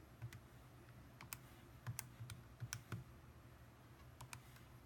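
An expression being keyed into a graphing calculator, a quiet run of light, irregular clicks and taps spaced through a few seconds against a faint hum.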